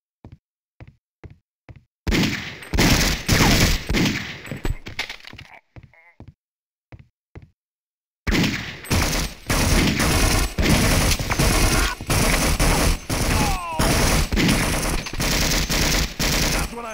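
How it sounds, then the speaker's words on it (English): Sniper and rifle gunfire in Half-Life: Opposing Force, sharp isolated cracks spaced apart at first, then long dense bursts of rapid shots and impacts, loud and close with brief silent gaps. "Those snipers have pinned us down here pretty good."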